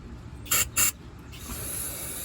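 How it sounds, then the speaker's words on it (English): Carb cleaner sprays into a 2-barrel carburetor in two short, sharp hissing bursts close by, followed by a softer fading mist and faint mechanical noise. "I'm gonna spray a little bit of carb cleaner in here just to put some fluid in there."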